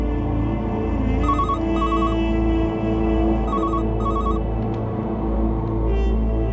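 Landline telephone ringing in a tense Indian crime drama scene, two quick double rings heard twice in succession, clear and fairly close over a steady background hum.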